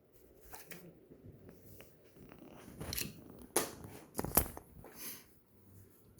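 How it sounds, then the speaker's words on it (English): Scissors trimming seam allowances on a fabric tote bag on a flat surface, with quiet close snips and fabric rustling building to several sharper cuts in the second half. "now we're going to trim the seam allowances"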